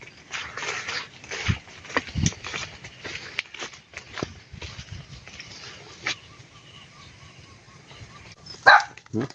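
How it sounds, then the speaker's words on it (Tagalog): Dogs bark in short, scattered bursts at a moderate distance over outdoor rustling and footsteps on a farm, with a sharper, louder yelp near the end. "Mga aso."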